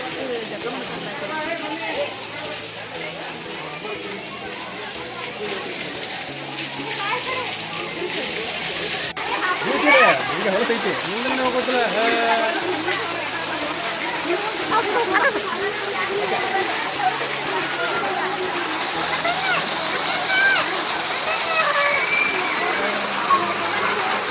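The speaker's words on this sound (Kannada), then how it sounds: "ಅಲ್ಲಿ ನೀರು ಬೀಳತ್ತಾವ ಹೆಂಗ್ಲಿ ತೊಯ್ತೈತಿಲ್ಲ" Water falls and splashes steadily at the Sogala Someshwara temple in Belagavi, a constant broadband rush with people talking over it throughout.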